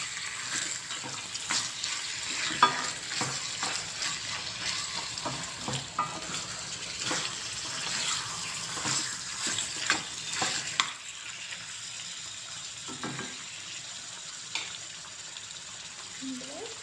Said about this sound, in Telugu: దీంట్లో వాటర్ అంతా బయటకు వచ్చేసే వరకు మంచిగా వేగనివ్వాలి చికెన్